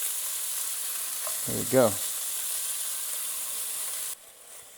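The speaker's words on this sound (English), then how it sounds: "You kind of want to let it sear up like this one right here." Pork searing in a pot for jambalaya, a steady soft sizzle throughout with a brief spoken remark over it near the middle, fading quieter at the end.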